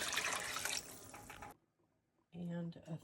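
Water runs steadily into a crock pot of hamburger goulash, a loud rushing pour for about a second and a half that stops abruptly, followed by a pause and then a voice speaking.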